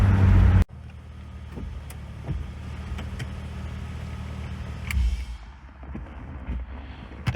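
A BMW E34 with a swapped-in S52 engine cruises along, its steady engine drone and road rumble holding at a moderate level after a brief louder burst at the start, with no talking.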